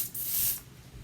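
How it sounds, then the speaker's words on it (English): A single short hiss of Bath and Body Works fragrance mist sprayed from a pump bottle, close and bright, lasting about half a second and then fading. "So I'm just going to give this one a spray"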